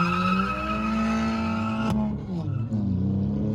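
A Skoda Laura and a Mercedes A200 launch in a drag race, with loud close engines roaring at high revs and tires squealing. The pitch breaks sharply at a gear change partway through, then the engines pull on more raggedly.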